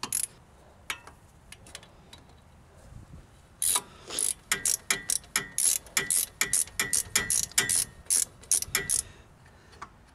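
A hand ratchet runs a bolt in on a Jeep Wrangler TJ axle, a close, steady series of sharp clicking bursts in quick rhythm after a few scattered clicks, with no talk over it.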